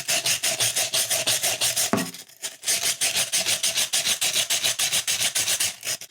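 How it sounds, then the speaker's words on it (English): Coarse sandpaper rubs the cut edge of a glass bottle in fast, regular back-and-forth strokes, a gritty rasp with a brief pause midway before the steady strokes resume. "And this is all with one quite harsh sandpaper at the moment."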